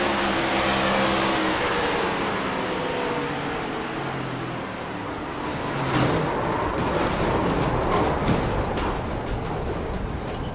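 Race car engines in iRacing at Pocono roar steadily in a broad, sustained drone, swelling louder about midway as more cars pass through a crash scene, with no talk.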